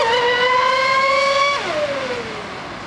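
A test boat, a Mystic C5000 or X-Ray low profile, runs at full throttle on a lake, its engine a loud steady high whine. The pitch then drops sharply as the throttle eases.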